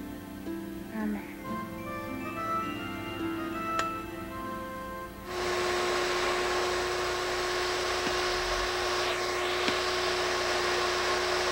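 A household vacuum cleaner that isn't picking up properly switches on midway and runs as a steady, loud broadband whir with a constant hum, following a quieter stretch of soft household sounds.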